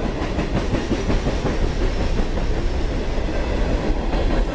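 A double-decker train passes at night, its wheels rumbling and clacking steadily and loudly over the rails in a continuous, rhythmic roar from start to finish, with no voices.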